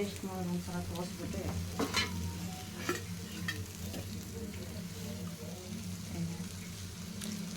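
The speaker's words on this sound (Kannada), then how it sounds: "ಬಾಂಗ್ಡಾ ಫ್ರೈ ಮತ್ತೆ ನಿಧಾನಕ್ಕೆ ಸೈಡ್ ಸೈಡಿಗೆ ಎಣ್ಣೆ ಹಾಕಿ" Bangda mackerel frying in oil in a pan on low flame, with a continuous crackling sizzle, scattered spits and pops, and scraping stir sounds throughout.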